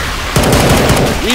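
Left 4 Dead 2 gunfire during a modded Hard Rain campaign: a close, loud automatic burst of rapid shots that starts after a brief quieter lead-in and keeps pounding to the end.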